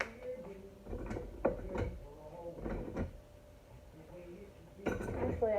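Metal kitchen utensils clink and rattle while someone rummages for a spatula, with a drawer or cupboard knock and scattered dish clatter in bursts, fairly quiet and close, with no speech.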